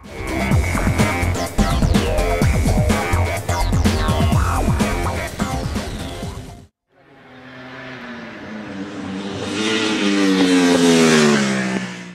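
A Ducati 1199 Panigale superbike on the Mugello circuit, its engine revving hard and shifting up through gears, then a short gap before another loud high-revving run that rises in pitch as it approaches.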